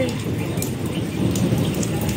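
Heavy rain pours down after falling since the previous night, a dense steady hiss of drops on surfaces with a faint low thunder rumble underneath.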